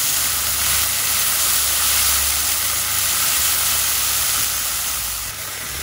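Ground seasoning paste with kencur stir-fried in a pan until dryish, a loud continuous sizzling hiss over a low rumble that dips briefly near the end, with no one talking.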